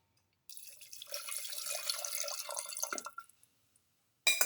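Water pours steadily into a pot of brindleberry stew, about 150 ml, for a few seconds, a close splashing stream that tapers off and stops.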